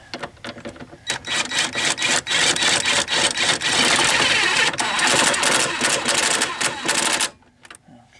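An impact driver set to position 1 tightens a rear shock absorber bolt on a Chevy HHR, giving a loud, close, rapid rattling hammer in bursts for several seconds before stopping abruptly.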